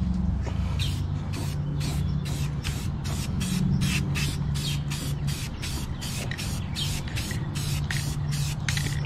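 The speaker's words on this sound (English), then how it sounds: "Make sure you shake your can good, of course, and then" An aerosol spray paint can sprays in a long series of short, even hissing bursts, close and loud, with a steady rhythm throughout.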